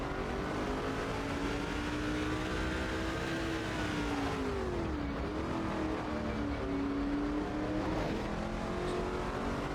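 Stock car engines roar in NASCAR 06, a steady loud drone with pitch sweeping up and down as the cars shift and race around the oval, no voices over it.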